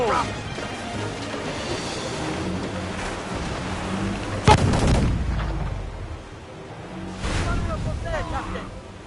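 Heavy ship cannon fire in Assassin's Creed 4 Freedom Cry, a sharp boom near the middle over a constant background of sea and wind, with shouting voices throughout.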